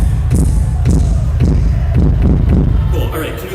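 A kick drum sample with its high end filtered out, played during a live music production session, thumps in a steady repeating pattern of about six muffled low hits over a crowd-like wash.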